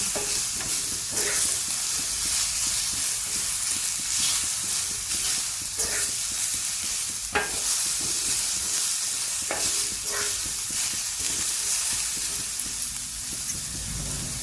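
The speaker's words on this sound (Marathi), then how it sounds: "तव्यातच हे दोडका आहे ना आता भाजून घ्यायचं" Ridge gourd roasts dry on a heavy iron griddle, giving a steady close crackling sizzle with scattered sharp pops and ticks throughout, no voices.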